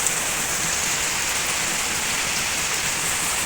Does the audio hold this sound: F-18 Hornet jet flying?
no